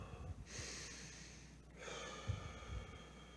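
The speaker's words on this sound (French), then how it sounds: "On prend l'air par le nez et on- on le repousse par la bouche." One person breathes slowly and close up, pulling air in through the nose in a soft snorting draw and letting it out through the mouth in a long breathy exhale, twice.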